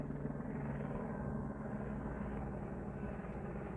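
A helicopter flies overhead at night, a steady faint droning rumble that stays constant for a few seconds with no voices.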